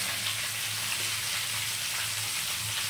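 Vegetables for shukto sizzling in a pan with salt and turmeric, a steady even hiss of frying, close and fairly soft, with little distinct stirring and no talk.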